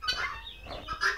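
Egg-laying hens on a small chicken farm give a few quick nearby clucks and murmuring calls in a short, quiet burst.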